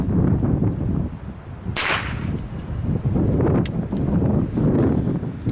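A suppressed Chiappa Little Badger .22 LR rifle firing CCI Quiet rounds gives a single sharp, muffled crack near the two-second mark, heard outdoors over gusty wind noise on the microphone.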